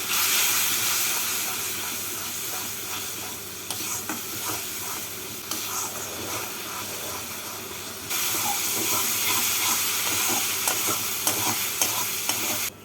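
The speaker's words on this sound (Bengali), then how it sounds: "এবার মশলাটা একটু কষিয়ে নেবো" Spice paste for a rohu fish curry frying in a pan, a loud continuous sizzle and hiss with scraping stirs, growing louder partway through as the cooking intensifies; no speech.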